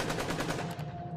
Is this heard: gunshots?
yes